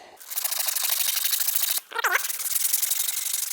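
Sandpaper rubbing the knurling off a metal motorcycle handlebar on a DR650, a steady close scratchy scraping that stops for a moment, followed by a short squeak, then resumes.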